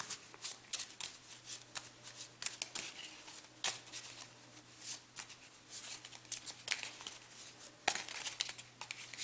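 Playing cards are shuffled repeatedly up close during a Star Realms card game, with quick riffling bursts and flicks, fairly quiet with a low hum underneath.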